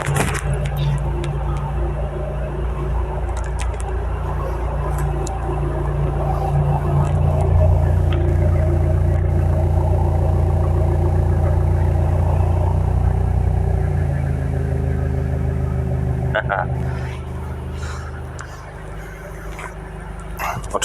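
A 2022 BMW M8 Gran Coupe's V8 engine with four exhausts rumbles and revs with a deep, throaty roar, dropping to a lower idle near the end.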